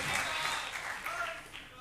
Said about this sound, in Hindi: ताली सबने नहीं बजेगी,